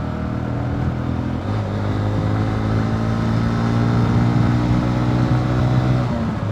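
A Honda CB Hornet 125 motorcycle rides steadily in fourth gear through traffic, its engine giving a continuous low hum with a slight rise partway through. Surrounding traffic noise sits underneath, and no one speaks.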